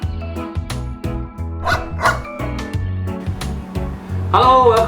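An eleven-year-old male Shih Tzu barks in short, close bursts over a bed of rhythmic background music.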